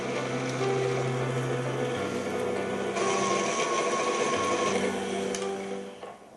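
A stand mixer's paddle beats cookie dough with added milk and egg, giving a steady close motor whir with a humming tone that shifts slightly in pitch partway through before fading at the end.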